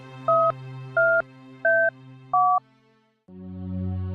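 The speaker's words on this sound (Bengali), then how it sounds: "দেখি বিপুলকে একবার ফোন করি।" A telephone keypad beeps through four evenly spaced dialing tones, then a steady ringing tone begins, clear and close with no talking.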